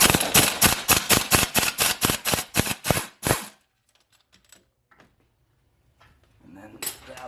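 Impact gun fitted with an extension removing Golf R transfer case bolts: a rapid run of about a dozen loud, sharp hammering bursts over three seconds, then near silence with faint clinks and a brief rattle at the end.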